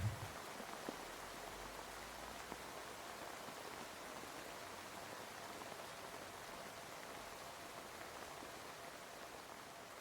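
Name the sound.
rain falling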